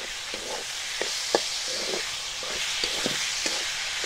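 Onions frying in a pan with a pinch of sugar, a steady close sizzle punctuated by short clicks and scrapes of stirring at irregular intervals.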